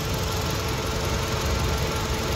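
A car engine idles smoothly after an ignition coil replacement that fixed misfiring and a flashing check engine light, giving a steady, close rumble with a faint ticking texture that runs without a break, then stops abruptly.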